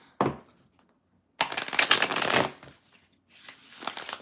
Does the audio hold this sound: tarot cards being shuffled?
yes